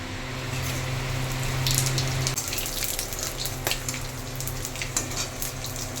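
Whole cumin, bay leaf, dried chilli, black and green cardamom, cinnamon and two cloves sizzling in hot oil for a Bengali mutton curry, a dense steady crackle and hiss close by with scattered pops and stirring scrapes.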